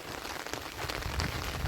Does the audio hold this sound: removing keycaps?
no